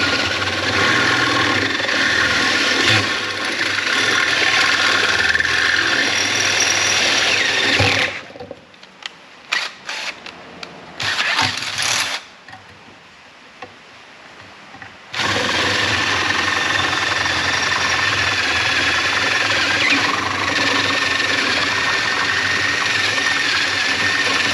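Spot welding on a car interior: a loud, steady buzzing crackle of the welder runs for several seconds, breaks off into a quieter stretch with short bursts, then resumes at full level and continues to the end.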